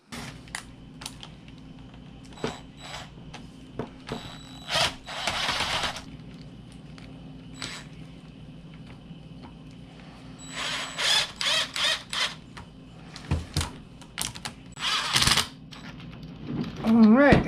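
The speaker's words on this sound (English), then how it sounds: "go ahead and screw your bolts down here in" Bolts being screwed into a Traxxas E-Revo RC car by hand, a quiet series of irregular clicks and ratcheting bursts up close, louder in clusters toward the end.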